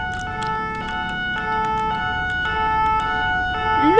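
A fire engine siren passes nearby, loud, with steady repeating two-tone wails that rise in pitch near the end as the vehicle approaches.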